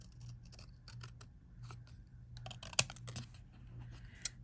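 Scissors snipping through paper during a stamping and paper-piecing craft session, a quiet series of short crisp cuts and rustles with a couple of louder clicks, close up and without talk.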